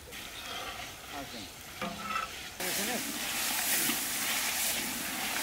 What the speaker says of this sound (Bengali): আমি নতুন স্টাইল হলো বেগুনটা ভাইজে নিচ্ছি